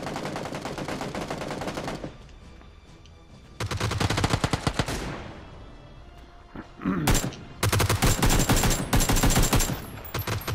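Gunfire in the PUBG battle royale game, including blasts from a DBS shotgun. Loud bursts of rapid shots come in several clusters, separated by quieter gaps of distant firing.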